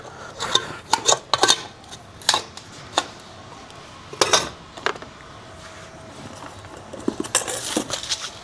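A camping kettle, spoons and a cooking stove are handled up close, giving irregular metallic clinks, clatters and knocks in scattered bursts over quiet pauses.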